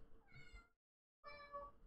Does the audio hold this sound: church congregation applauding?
no